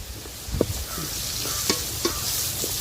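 Onions sizzling in hot oil in a pan while vegetable lemon rice is prepared, a steady soft frying hiss with a few sharp clicks from stirring, alone without voices.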